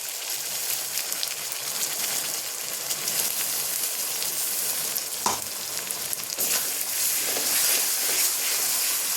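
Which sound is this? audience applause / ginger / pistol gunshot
ginger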